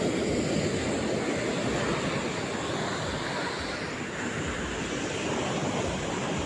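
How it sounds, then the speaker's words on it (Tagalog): Strong Philippine Sea waves at high tide roar steadily and loudly close by as broadband surf mixed with wind buffeting the microphone, with no voices. "Lakas ng alon, high tide."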